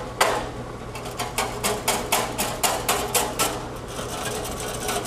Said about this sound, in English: we use this depositor for all our book molds